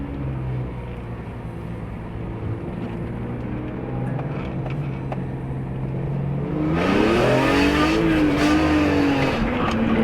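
A car with an SMG transmission accelerates hard, engine note rising loudly and steadily from a low drone to a higher, stronger rev near the end, heard from close by, apparently from inside the car.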